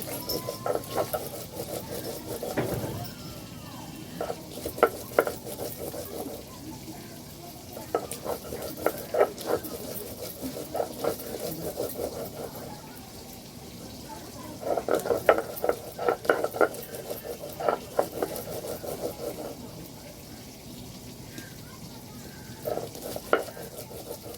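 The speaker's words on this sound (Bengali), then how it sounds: "বাকি মাছগুলো দিয়ে ভেজে নিয়েছি" Fish fries in oil, sizzling steadily in a pan while a utensil scrapes and stirs in irregular bursts, close by and moderately loud.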